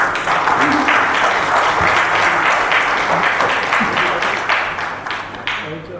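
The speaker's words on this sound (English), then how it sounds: "Once more, legend, before he starts, a big round of applause." A large audience breaks into loud, dense applause to welcome a speaker, a sustained wash of clapping with some voices underneath that gradually thins out near the end.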